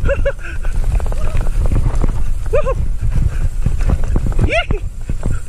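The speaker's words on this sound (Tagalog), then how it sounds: "May kabayo." Horse hooves clip-clopping on a trail during a night ride, a steady run of close, loud knocks, with voices talking over and between the hoofbeats.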